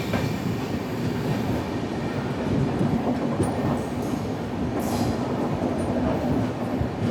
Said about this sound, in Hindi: अब हमारी ट्रेन पहुंची है वडोदरा, और मैं हूँ इस वक्त वडोदरा जंक्शन पे